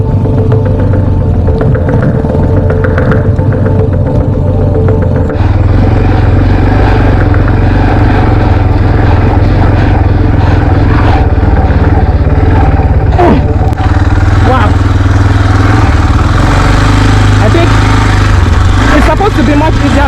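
A new rider's motorcycle rumbles steadily on a ride through Kenya, the engine loud and continuous with clattering and passing traffic, while people talk over it.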